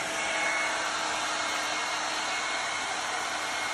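A Revlon One Step hair dryer and volumizer brush runs steadily at close range, a loud, even blowing whoosh with a faint motor whine and no break for the whole stretch.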